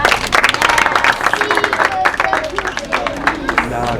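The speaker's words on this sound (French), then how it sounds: "Alors, on applaudit pour vous-même." Audience applauding children at the St Joseph orphanage, a dense mix of clapping and crowd hubbub with voices and cheers mixed in throughout.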